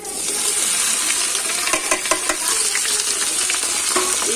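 Chopped okra frying in a hot pan gives a steady, dense sizzle with a few faint stirring clicks throughout, close and fairly loud, with no voices.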